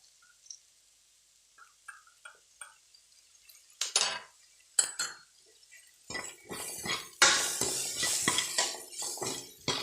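A spoon scrapes and clinks against a pan of bell pepper curry with milk on low gas heat, sparse taps at first, then busier, louder stirring with sizzling metallic clatter.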